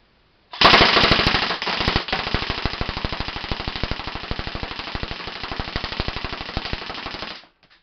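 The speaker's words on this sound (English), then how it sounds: "This is the G&G M4 GR15 Desert 10 airsoft gun. This is it shooting." Rapid full-auto bursts from a G&G M4 GR15 Desert 10 airsoft rifle, a dense, even rattle of shots lasting about seven seconds, loud and close with no talk.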